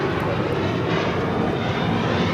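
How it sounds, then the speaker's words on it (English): A Philippine Airlines Boeing 777-300ER on flight 102 from Manila arrives at Los Angeles airport, its engines producing a loud, steady, broadband roar that holds without a break. "Philippine, flight 102, the 777 to 300ER coming in from Manila"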